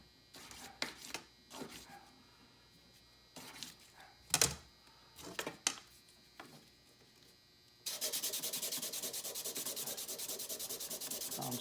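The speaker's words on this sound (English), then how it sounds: "I'm sanding the top." Sanding of a handmade metal pendant with a set stone: several short scraping bursts early on, then a dense, steady, fairly loud rasp that carries on alone until the end.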